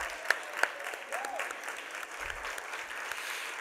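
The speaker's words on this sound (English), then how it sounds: "stand up to give them a round of applause" Applause from an audience at an opening welcome session for the MSI team, a steady wash of many hands clapping at moderate distance, with a couple of sharper claps standing out near the start.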